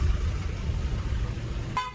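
A single short car horn toot sounds near the end, over a steady rumble of road traffic.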